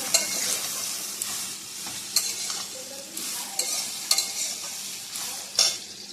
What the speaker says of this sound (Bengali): এবার একটু জোরে জল দিয়ে নাড়াচাড়া করে ভাজবো।